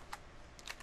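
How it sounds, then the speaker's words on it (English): Keystrokes on a computer keyboard as a router BGP command is entered, a few quiet separate clicks spread across a short moment, close and faint. "we're going to type in router BGP 38"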